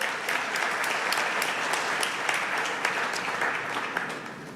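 Applause from an audience at an FCC chairman's address on connectivity and the ITU, dense steady clapping for several seconds with no talk over it.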